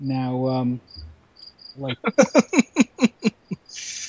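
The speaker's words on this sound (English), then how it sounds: "There is a freaking cricket in my house." A cricket chirps inside a house, giving short, thin, high chirps after someone speaks a word, then a run of quick rhythmic pulses and a final burst of chirping.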